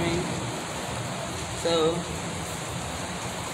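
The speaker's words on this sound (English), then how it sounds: "it just started raining, thundering out of nowhere" Rain falls steadily during a sudden thunderstorm, a soft, even hiss throughout, with someone talking briefly over it.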